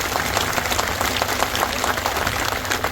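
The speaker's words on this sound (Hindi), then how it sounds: "अगर सही है तो तालियां ऐसी बजनी चाहिए कि" Dense applause from a large crowd at a political rally, a steady wash of many hands clapping at once, loud and continuous throughout.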